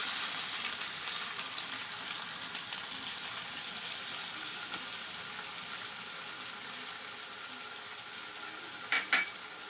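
Browned onions frying with ginger for beef trotter paya hiss in a continuous loud sizzle close by, with a few light clinks of a stirring utensil near the end.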